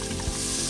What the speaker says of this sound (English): In goes the garlic and the onion.